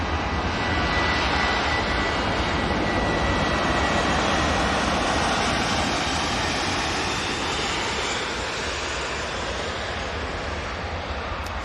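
Virgin Atlantic flight VS 128 arriving from New York JFK into Manchester, a loud, steady jet engine roar that holds at full strength throughout, with no voices.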